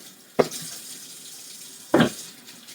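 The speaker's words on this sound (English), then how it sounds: "Let me get my hands washed, y'all. Get the onion off my hands" A kitchen faucet runs as hands are washed, two brief bursts of splashing water against a faint running background.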